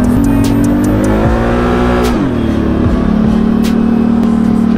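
An ATV engine revs hard while its tires slide and drift, a loud close motor rising and falling in pitch across several throttle swings, with no talk.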